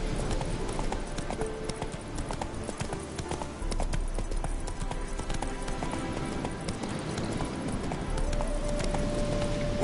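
Steady hoof clip-clops of the horse Roach from The Witcher 3, trotting in a continuous rhythm over a dense game soundscape, close and prominent.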